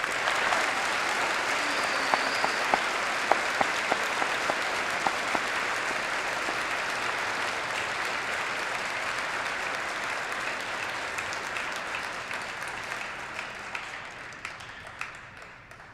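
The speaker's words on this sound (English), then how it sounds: "I invite everyone to join in giving our veterans here a round of applause for their service, sacrifice, and leadership." Sustained audience applause for veterans at a high school Veterans Day program, a steady wash of many hands clapping that holds for the whole stretch and slowly fades toward the end, with no talk over it.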